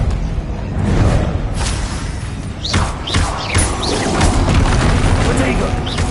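Confringo blasting-spell explosions from the game Hogwarts Legacy, a string of loud booms and crashes with whooshing bursts, several in quick succession over a rumbling battle bed, with shouted spell voices nearby.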